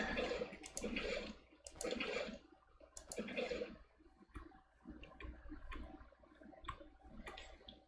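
Water poured from buckets into an aquarium in Minecraft, heard as several short splashy whooshes at a moderate level, then softer clicks and trickles amid quiet game ambience.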